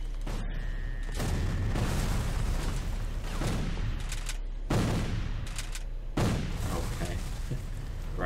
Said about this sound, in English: There's two of you who just fired about like 13 shots, which in this war is quite a lot